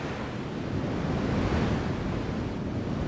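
Rough, angry sea surf pounds craggy cliffs on a penguin coastline, a loud continuous roar of breaking waves mixed with gusting wind. No voices.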